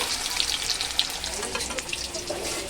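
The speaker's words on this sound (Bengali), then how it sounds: "সেটা আমি উল্টে পাল্টে একটু তেলে এই যে ভেজে নিচ্ছি" Potatoes fry in hot oil while being turned, giving a steady, close crackling sizzle throughout with small spits and pops.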